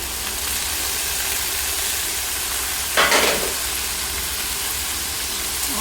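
Boiled, drained drumstick flowers frying in a pan with tomatoes give a steady close-up sizzle, with a brief louder hiss around the middle as they hit the hot oil.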